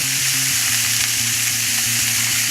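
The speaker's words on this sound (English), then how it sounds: "Check in the pork mince whenever you're ready, and then try to cut them into smaller pieces using the spatula." Pork mince frying in a pan and being cut into smaller pieces with a spatula, a loud, continuous sizzle with low, repeated tapping from the spatula beneath it.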